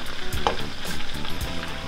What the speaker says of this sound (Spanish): le vamos a agregar las especias en polvo.